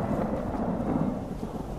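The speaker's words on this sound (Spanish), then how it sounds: "¿Cómo suena esa tormenta?" Thunder rumbles through a rainy storm in the video game Skyrim, a low, steady roll with no voices over it.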